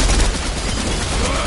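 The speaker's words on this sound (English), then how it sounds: "because he's shooting at us" Dense, loud bursts of gunfire in a Fortnite match, a nonstop rattle of close shots over a heavy low rumble for about a second and a half.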